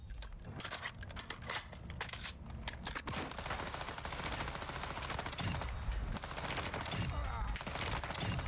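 Call of Duty DMZ video game gunfire: a long, continuous rattle of rapid shots, fairly quiet and somewhat distant, running steadily through the whole stretch with no talk.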